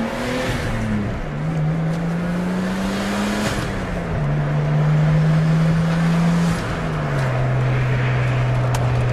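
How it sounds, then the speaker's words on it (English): Nissan Skyline R32 with a turbocharged engine idles and builds revs, a steady close engine drone whose pitch rises and steps between levels, with no talking. "Hear that turbo spooling up."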